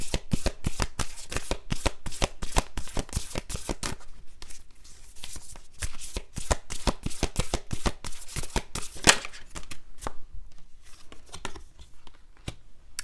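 Moonology oracle cards shuffled by hand for a tarot reading, a steady run of quick crisp riffling flicks close by that loosens into sparser taps toward the end, with no talking.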